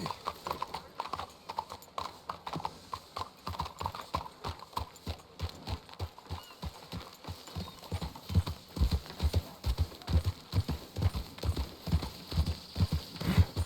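Steady clip-clop of horse hooves on a hard surface, starting sparse and quickening into a regular rhythmic trot that grows louder and nearer toward the end, in a video game.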